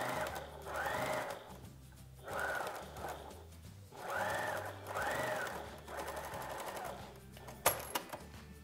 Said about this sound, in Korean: 절개해둔 마스크 안감의 그 절개면을 1cm씩 2번 접어서 봉제를 할 건데요